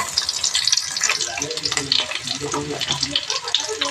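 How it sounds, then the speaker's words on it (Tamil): Mustard seeds, curry leaves and small shallots hit hot oil in a pan for tempering, a busy crackling sizzle with popping and stirring scrapes, close and continuous. "எண்ணெய் காய்ஞ்சதும் கடுகு போட்டு தாளிச்சிக்கலாம் கருவேப்பிலை அடுத்து சின்ன வெங்காயம்"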